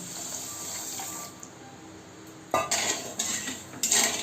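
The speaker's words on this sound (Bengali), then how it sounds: "মধ্যে আমি জল দিয়ে দিলাম" Water poured from a bowl into a kadai holding a bowl of sugar to make syrup for khaja, with a quiet start, then several close splashing bursts mixed with light metallic clatter.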